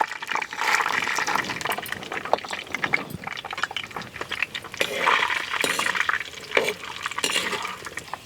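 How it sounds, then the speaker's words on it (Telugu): Peanuts fry in hot oil for citron pulihora, giving an irregular, close crackle and sizzle with occasional metallic clinks from stirring. "ఈ పల్లీలని దోరగా వేయించుకోవాలి."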